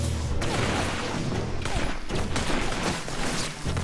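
Grenade blasts and weapon fire from the inFamous 2 video game, a dense continuous barrage of loud bursts and crashes with repeated impacts layered over a steady rumble, heavy from start to finish.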